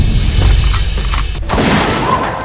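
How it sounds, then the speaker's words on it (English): A burst of sharp gunshots crackles at a distance over a noisy, rumbling background, a few loud reports standing out from steady low hiss. "That sounded like gunshots."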